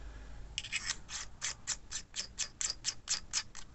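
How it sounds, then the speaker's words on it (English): Crisp, evenly spaced clicks from the turret dial of a Vector Optics Grimlock riflescope, about a dozen sharp ticks in a steady rhythm, close and clear with no talk over them. "Nice positive clicks."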